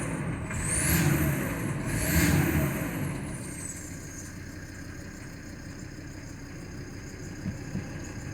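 A 2007 Volkswagen Crafter van with a 2.5 TDI diesel, 109 bhp and high mileage, idles roughly after a cold start, a steady low rumble heard close, with a faint whine rising and falling early on.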